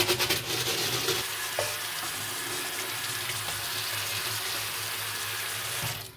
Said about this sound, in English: I don't have a dishwasher, so I'm using the manual dishwashing method here.